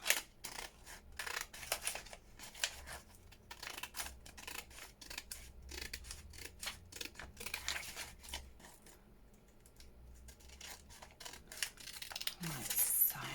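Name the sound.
scissors cutting around packaging scraps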